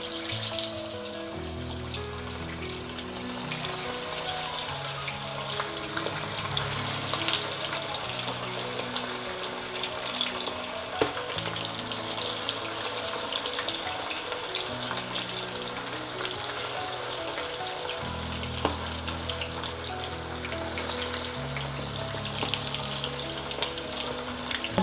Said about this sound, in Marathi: तेल गरम झालेलं आहे आपलं। आता टाकते आहे मी तेलामध्ये।